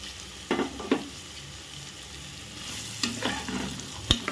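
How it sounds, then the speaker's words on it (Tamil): Green peas and soy beans sautéing in a pan for Karnataka-style tomato bath, a low sizzle broken by a few sharp scraping stirs and clatters, close and without talk. "பச்சை பட்டாணியும் சோயா பீன்ஸும் மட்டும் ஆட் பண்ண போகிறோம்."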